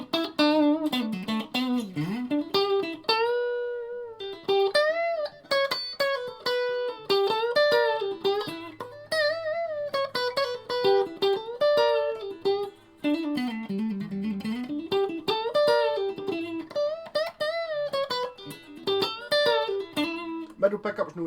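Electric guitar, a Stratocaster on its middle pickup position, plays a melodic line with a washy reverb tail and a slightly driven tone, notes ringing and overlapping continuously.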